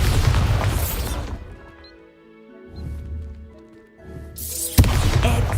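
A Bombarda blast spell in the Hogwarts Legacy video game, heard as loud crashing bursts at the start and end with a quieter, tonal ringing stretch in between.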